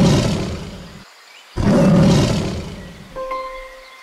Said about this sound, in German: Wie klingt der Löwe?